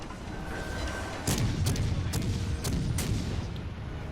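Incoming naval shell fire in World of Warships Legends, with the Iowa in the battle: a series of about five sharp booming impacts at irregular intervals over a steady low battle rumble, fairly loud and close.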